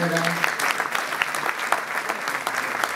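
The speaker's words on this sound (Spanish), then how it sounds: "Un aplauso para la compañera." Applause at a gathering where activity announcements are read out, steady dense clapping from a group filling the whole stretch, with a brief voice trailing off at the very start.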